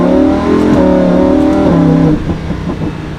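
Lamborghini Huracan LP 610-4 in sport mode accelerating hard, a loud, close engine roar climbing through the revs, with a smooth dip at each shift, before easing off near the end.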